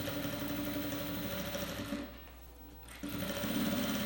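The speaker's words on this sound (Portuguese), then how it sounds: "Vou passar uma costura de segurança em toda a volta do meu espelho." A sewing machine runs a safety seam around the pocket of a shoulder bag, a fast steady mechanical whir close by, pausing for about a second midway before resuming at full speed, with no talking.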